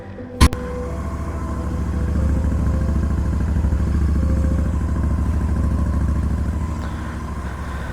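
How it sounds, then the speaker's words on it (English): Royal Enfield Interceptor 650 motorcycle exhaust: a steady, loud, low throbbing rumble that holds throughout, with a single sharp click near the start and no talking. "So with the beautiful exhaust note of the Interceptor, let's begin our ride."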